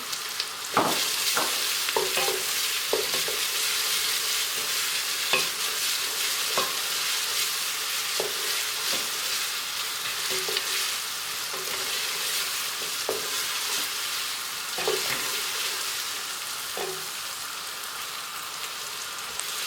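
Sucuk sausage frying in a pan, a steady close sizzle with repeated utensil scrapes and taps every second or two as it is stirred, no voices over it.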